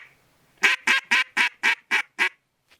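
A Zink duck call blown in a run of seven evenly spaced, loud quacks, each short and nasal, with a faint trailing note at the end.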